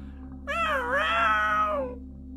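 A single drawn-out cat meow, clear and close, rising then falling over a low steady hum.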